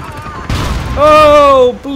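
Gunfire in an online military shooter with an attack helicopter and a ground vehicle shooting, a sharp blast followed by a loud rising whine and roar that holds, then cuts off, with a player's voice in the mix.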